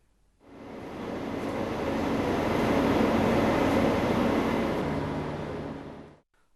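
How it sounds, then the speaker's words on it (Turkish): The Doğu Ekspresi passenger train on the Ankara–Kars line passes close and loud, a steady rumbling roar of wheels and cars that swells, holds for several seconds and cuts off. "Ankara Kars arası sefer yapan Doğu Ekspresi geçtiğimiz günlerde seferlerine yeniden başlamıştı."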